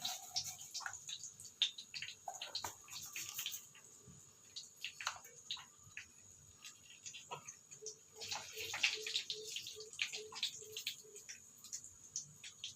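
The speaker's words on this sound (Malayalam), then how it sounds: "കടുക് ഒന്ന് നന്നായിട്ട് പൊട്ടട്ടെ." Mustard seeds crackle and pop in hot coconut oil, with fenugreek already fried, for a Kerala prawn curry. Faint, irregular spluttering continues without a break, with a quick run of small pops near the end.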